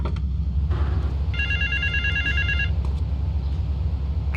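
A telephone rings in GTA 3 on a Vice City engine mod, a burst of rapid electronic trilling tones over steady low background hum, following a brief thump, with no one speaking.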